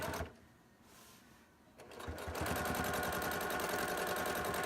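A domestic sewing machine starts up and runs steadily with a fast, even stitching chatter, close and loud after a brief quiet lull; its bobbin thread is running low.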